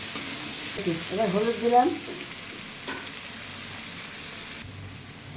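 Potatoes and chillies sizzle and fry in a pan, stirred now and then, with a steady hiss under a brief spoken remark partway through.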